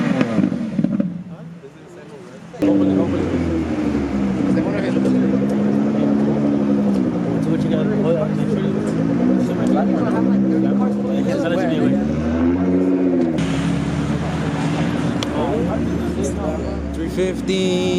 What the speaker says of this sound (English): Miata, and another Miata.